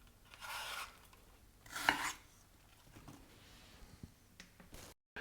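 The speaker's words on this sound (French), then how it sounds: "je vais éplucher et couper en cubes 2 pommes" Two Pink Lady apples being peeled and cut into cubes on a board, giving a few soft scraping and knife strokes with one sharper chop near the middle, close and quiet, no voices.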